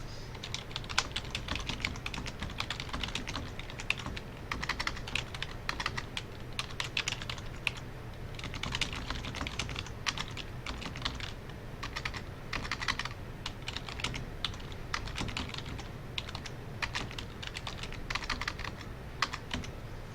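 Continuous typing on a computer keyboard while entering a comment, with a steady patter of quick key clicks running throughout, close and moderately loud, with no talking.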